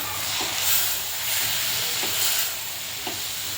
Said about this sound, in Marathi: सोलून चांगली धुतलेली कोलंबी टाकते। चांगली परतून घेते।